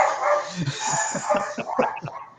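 Two small dogs bark repeatedly indoors, a rapid series of yips and barks at moderate loudness, coming in quick uneven bursts against a faint background.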